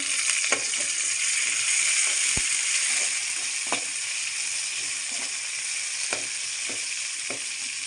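Green chillies and curry leaves sizzle steadily in hot oil for a Tamil sardine curry, a continuous close hiss with faint stirring clicks and no talk.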